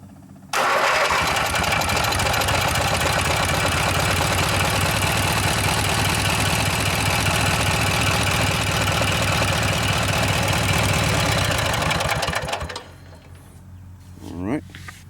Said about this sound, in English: And here's the ignition switch. You hear that electric pump come on.